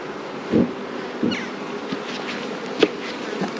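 Honey bees buzz continuously around an open hive during an inspection, a steady close drone swelling with brief louder passes of individual bees near the frames.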